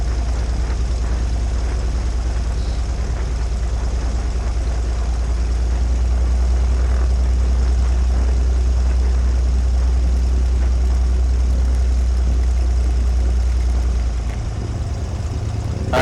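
A Stinson light aircraft's piston engine runs steadily on the ground before takeoff, a loud continuous low drone with propeller buzz that holds throughout and shifts slightly near the end.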